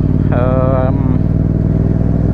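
A motorcycle engine drones low and steady throughout a ride, close and loud, with a voice briefly heard over it.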